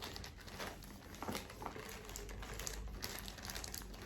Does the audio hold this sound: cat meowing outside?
no